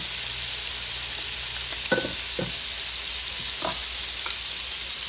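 Shrimp fry in a hot mix of butter and cornmeal grease, giving a loud, even close-up sizzle throughout, broken by a few brief clacks of a utensil in the pan and no voices.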